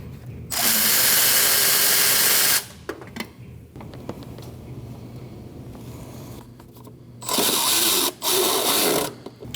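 A power tool spins out valve cover bolts on a 2003-2008 Subaru Forester 2.5L H4 engine, giving two loud, close whirring bursts of about two seconds each, separated by quieter shop noise and small clanks.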